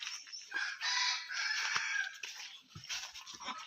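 Gavran country chickens in a coop, a rooster crowing loudly and repeatedly up close over a steady mix of hen clucks, with no speech.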